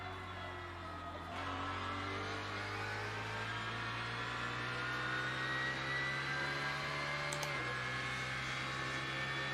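A race car engine droning steadily through a quick lap in a racing simulator driven on a Fanatec direct-drive wheel with a Formula rim, pitch climbing gradually with a shift-like drop partway, continuous and alone without talk.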